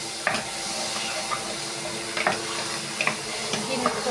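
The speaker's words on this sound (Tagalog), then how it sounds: "Once the sibuyas is semi-translucent, now I am going to put the tomato paste" Tomato paste meets onions sautéing in a pan and sizzles steadily at close range, with scattered stirring clicks and scrapes of a utensil.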